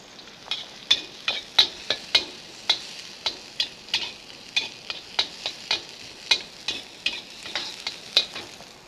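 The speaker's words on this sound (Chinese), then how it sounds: "就是新鲜香菇、芹菜、胡萝卜丝都下锅来炒" Fresh shiitake mushrooms, celery and shredded carrot are stir-fried in hot oil in a wok, with a steady soft sizzle under a rhythmic series of sharp spatula clacks against the metal, close and clear.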